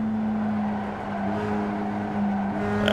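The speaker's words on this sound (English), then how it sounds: "That guy's spinning out." A Mazda MX5 race car at Silverstone in iRacing, its engine droning steadily with tires squealing and skidding as it slides, loud and continuous, rising slightly near the end.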